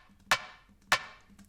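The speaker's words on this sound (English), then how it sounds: "sort of wooden snare." A wooden-sounding snare drum sample with a very short release and a lot of attack, struck twice about half a second apart; each hit is a sharp, dry, woody crack that fades quickly.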